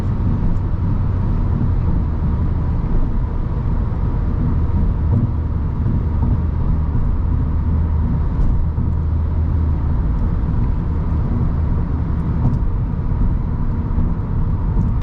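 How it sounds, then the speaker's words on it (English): Steady broadband rumble of tires rolling on pavement at highway speed, a constant low roar from inside a moving 2022 Subaru WRX GT with no talking. "definitely can hear a little bit of tire and road noise at about highway pace"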